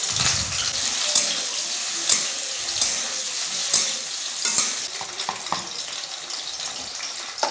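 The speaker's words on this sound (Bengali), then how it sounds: "আলুগুলো আমি আস্তে আস্তে সব ছেড়ে দিচ্ছি। এবার হালকা নাড়াচাড়া করব।" Potatoes frying in hot oil and being stirred, a steady bright sizzle broken by repeated scraping strokes of a spoon against the pan, close up and alone with no talk.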